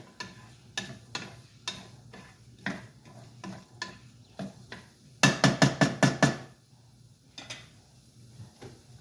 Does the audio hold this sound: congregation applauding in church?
no